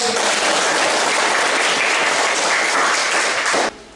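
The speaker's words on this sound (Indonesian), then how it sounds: "Tepuk tangan yang paling meriah." An audience of teachers gives a continuous burst of loud applause for nearly four seconds, dense and steady before stopping abruptly near the end.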